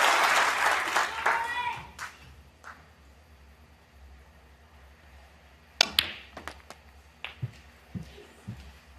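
Applause from a crowd at a pool tournament final swells loudly for about two seconds and then fades, followed by sparse sharp clicks of balls on the table.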